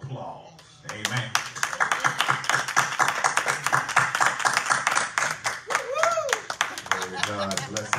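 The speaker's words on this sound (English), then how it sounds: "I just want you to receive him with a loving, welcoming applause" Congregation applauding to welcome a speaker at a church service, with rapid, dense clapping close by and voices calling out over it.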